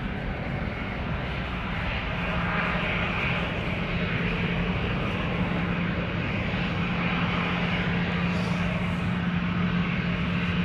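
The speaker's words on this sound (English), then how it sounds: "Right, KLM 737." A KLM Boeing 737 departing Amsterdam Schiphol Airport gives a steady, loud jet roar that fills the whole stretch with no break, broad and continuous, with a low engine hum running underneath.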